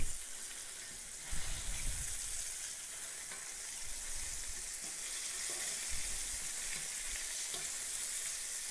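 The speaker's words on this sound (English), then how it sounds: "It's just frying right along." Chicken pieces fry in a pan with a steady, soft sizzle and crackle that runs continuously, with no voices.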